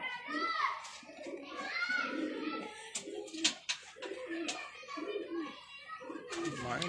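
Rampuri pigeons cooing in soft, low repeated calls close by, mixed with children chattering and someone talking over them.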